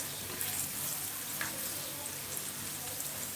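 Garlic, ginger and red onions fry in hot oil, making a steady, soft hiss and crackle throughout with no talking.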